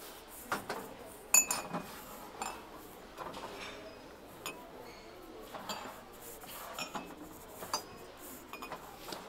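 Small gold mugs with gold handles clink faintly as they are handled, giving light, scattered ceramic taps and chinks at irregular intervals over a quiet background.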